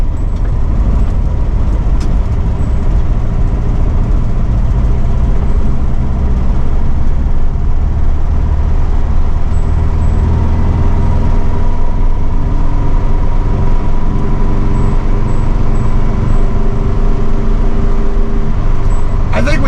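A 1964 VW Beetle with a 1600cc dual-port engine driving after a clutch pop, its low air-cooled engine drone steady and loud from inside the car with road rumble, while a person speaks over it.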